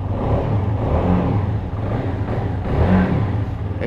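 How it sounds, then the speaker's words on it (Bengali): A CF Moto motorcycle engine revs steadily, a continuous mid-pitched drone that swells slightly near the end, close and fairly loud with no talking. "আর বাইকটার সাউন্ড"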